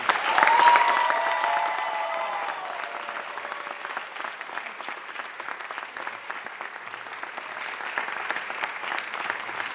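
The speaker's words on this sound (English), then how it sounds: "let's have a super warm round of applause" Audience applause fills a performing arts recognition ceremony, loudest at the start as a recipient is welcomed, then settling into steady, sustained clapping across the whole stretch with no talk over it.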